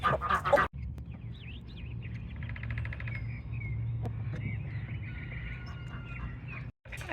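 A broody hen gives soft, nasal clucks and murmuring calls close by, with other poultry sounds mixed in over a low steady background hum.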